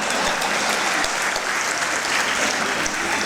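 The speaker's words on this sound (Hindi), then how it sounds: "और अगली जो बात कही उस पर आपकी तालियां उठनी चाहिए।" An audience at a speech during a news channel's special programme breaks into loud, sustained applause, a thick, continuous clapping with no voices rising above it.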